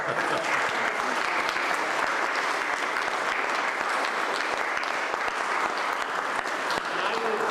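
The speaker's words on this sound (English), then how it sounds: "they all deserve a big round of applause." A large audience applauds steadily, dense clapping filling the whole stretch without a break at a fairly loud, even level.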